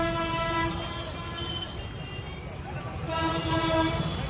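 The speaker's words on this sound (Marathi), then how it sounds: "इथं लोकांना इतकं बेकार हॉर्न वाजवण्याची सवय ना. तुम्ही फक्त ऐका आता हॉर्न" Traffic in a crowded market street in Lucknow, with a sustained vehicle horn blaring over general road noise and a second horn joining toward the end, and people talking in the background.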